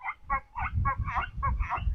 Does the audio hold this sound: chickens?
yes